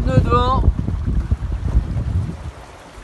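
Wind buffets the microphone and water rushes steadily, with a brief harmonic tone at the start, as a Libertist 703 sailboat glides at 5-6 knots in light wind of about 5 knots.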